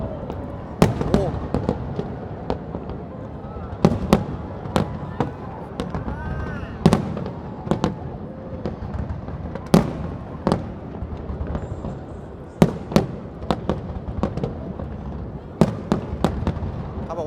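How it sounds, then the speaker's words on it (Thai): New Year fireworks at IconSiam in Bangkok heard from the Taksin Bridge: a dense run of booming bursts and crackling pops, some near and loud, over a constant crowd murmur with voices talking throughout. "ปีนี้ที่ไอคอนสยามจุดพลุยิ่งใหญ่กว่าปีที่แล้วนะฮะ"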